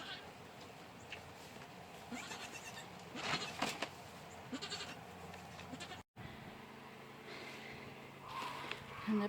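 Female goats bleat a few times at a distance, faint and scattered, over outdoor background noise and wind.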